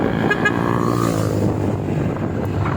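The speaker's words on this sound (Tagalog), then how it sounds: "Engine brake yun mo" A scooter engine braking during a ride, steady loud drone with wind rush and shifting engine harmonics that ease downward over a few seconds, no talk over it.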